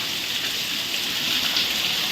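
Heavy rain pours down outdoors as a dense, unbroken hiss at steady loudness throughout, with no voices or other sounds breaking through.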